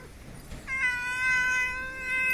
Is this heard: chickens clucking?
no